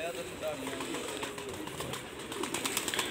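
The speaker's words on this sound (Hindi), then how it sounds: "लो वीर जी दर्शन करा लगे तुम कबूतर दे" Domestic desi pigeons in Amritsar coo softly amid a busy, noisy background, with someone talking over them throughout; the low cooing is partly masked by the general din.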